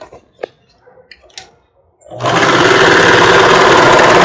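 A sewing machine stitches elastic binding onto a bra, starting abruptly after a few small handling clicks and then running in a loud, fast, continuous whir close by.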